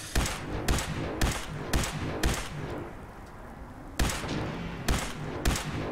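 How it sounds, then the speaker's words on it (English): Gunfire in Fallout 4, a sequence of sharp loud shots in an uneven rhythm, about eight reports with a short pause midway, close and alone without talk. "Are you shooting at me, or are you shooting at Cait?"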